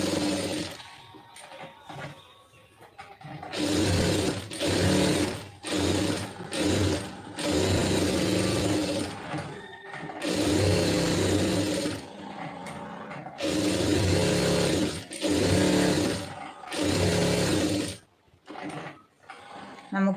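A sewing machine stitches the lining of a blouse in repeated loud mechanical bursts, some short and some running for a couple of seconds, with brief gaps and handling noises between runs.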